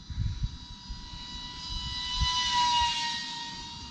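An E-Flite UMX MiG-15 radio-controlled jet with a 28mm electric ducted fan comes in to land in a crosswind, its thin, steady high-pitched whine swelling slightly as it passes near, over low wind rumble.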